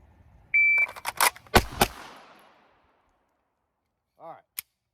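At draw-stroke practice, a shot timer gives a sharp electronic beep, followed quickly by several loud, close pistol shots and their echoes. A short clack comes a couple of seconds later.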